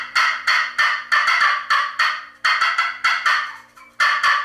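Quick excited cutts from a turkey hen imitated on a slate call, sharp clucking bursts in an uneven, urgent rhythm, loud and near with no speech.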